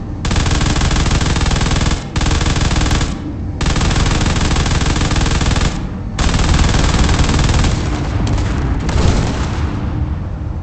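An automatic weapon in the Space Engineers game fires in long, loud sustained bursts with short breaks between them, the rapid gunfire dense and continuous.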